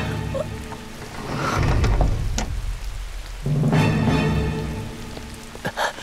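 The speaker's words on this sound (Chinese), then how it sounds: "这么大雨你外出做什么？" Heavy rain pours down in a steady, dense hiss, swelling twice with low rumbling surges, mixed with a soft musical score.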